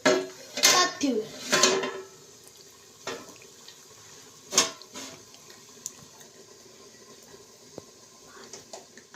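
A metal plate set down as a lid over a pan of peanut chutney on the stove, heard as a few loud clattering clanks of metal near the start, then a quieter kitchen background with a couple of soft knocks.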